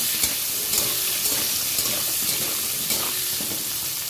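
Pointed gourd frying in oil with salt and turmeric, a continuous loud hiss with small periodic stirring clicks, close and steady, no voices.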